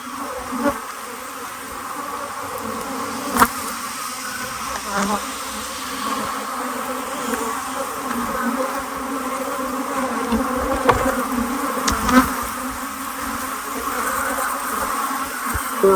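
Honey bees swarm around an open nuc hive while frames are worked, making a steady, close, droning buzz with individual bees whining past and a few soft knocks and clicks from handling.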